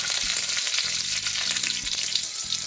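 Mustard seeds and curry leaves fry in a spoonful of hot oil, giving a steady bright sizzle with scattered crackles and pops, close and continuous throughout with no talking.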